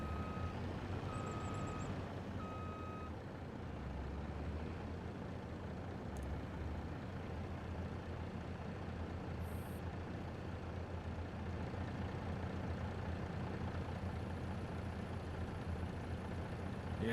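A farm vehicle rumbles steadily through a Farming Simulator 25 beet harvesting session, with a continuous low engine drone, a short run of reversing-style beeps early on, and occasional faint clicks, no talk.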